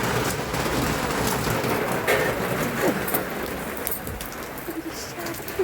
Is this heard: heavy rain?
yes